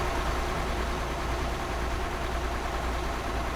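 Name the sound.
truck engine in Euro Truck Simulator 2 video game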